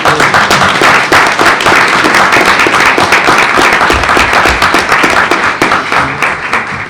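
Loud, close round of clapping at a board meeting, many hands striking in a steady dense patter with sharp individual claps standing out, sustained for several seconds before easing slightly at the end.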